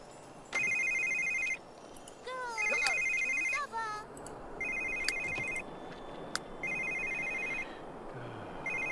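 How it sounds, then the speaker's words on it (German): A mobile phone ringtone goes off in bursts, a repeating electronic melody with short gaps between rings, fairly loud and close, while someone talks over it and in the pauses. "Handy, du störst."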